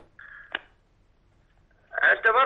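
A steady electronic tone of an incoming call on a phone line during an Egyptian legal-advice call-in show about inheritance, about half a second, ending in a click. After a short silence, a voice comes in loudly.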